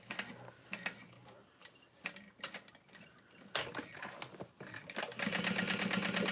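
A sewing machine stitching piping onto fabric connectors, with short bursts of rapid mechanical ticking separated by pauses, then a longer continuous run of fast stitching at the end.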